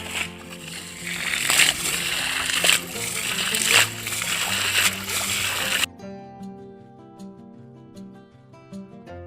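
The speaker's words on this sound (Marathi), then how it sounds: "पटापट आता या डॉमधलं पाणी उपसून घेऊया" Water bailed by hand out of a dammed stream pool for catching fish, with repeated splashes and sloshes close by over the first part, then fading as music takes over.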